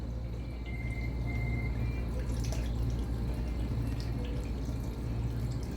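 A Hoshizaki ice flaker in drain mode lets water trickle and drip steadily under a constant low machine hum, faint against the background drone, with no talk.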